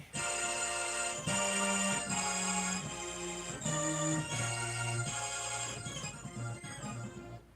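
Electronic keyboard set to an organ voice, playing a sequence of sustained chords with bright buzzy harmonics, each chord held about a second, loud and alone.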